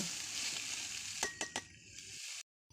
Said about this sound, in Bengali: সবগুলো মিশিয়ে হালকা আঁচে একটু ভেজে নিচ্ছি